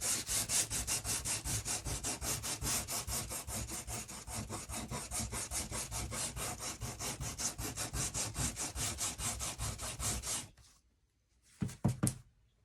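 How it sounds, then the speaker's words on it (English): Steady rhythmic sanding of rough pallet wood along the grain, quick back-and-forth scraping strokes close up for about ten seconds, then stopping with a couple of brief scuffs afterward. "Trying to go with the grain of the wood as I sand."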